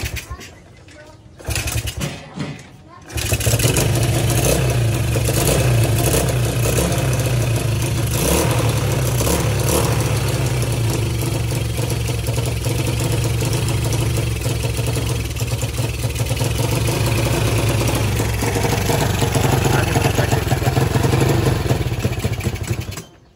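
A Racal Wavestyle motorcycle with a charging fault is kick-started; after a few brief kicks the engine catches and runs loud and close with a steady idle clatter for about twenty seconds. Someone talks over it at times.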